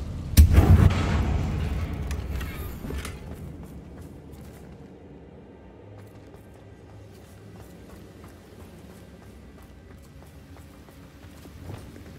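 A Confringo blasting spell bursts at a damaged bridge in Hogwarts Legacy, a loud sharp blast with a crackling tail in the first second. The sound then settles into faint ambient rumble with a small knock near the end.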